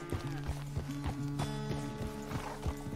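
Horse hooves in Red Dead Redemption 2, a steady clip-clop gait with regular close thuds, a snort or whinny layered in and a musical tone held underneath.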